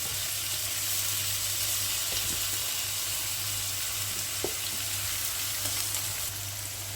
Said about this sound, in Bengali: এখন পরিমাণ মতো তেল দিয়ে দিলাম, আর আগে থেকে ধুয়ে রাখা চিংড়ি মাছগুলো দিয়ে দিলাম ভাজার জন্য।